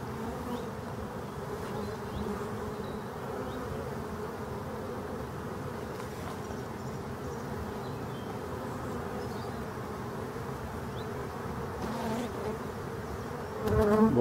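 Bees buzz at the entrance of a forest beehive, a dense continuous hum of many insects that stays steady and fairly close, with a few individual bees passing nearer and a louder buzz near the end, with no talking.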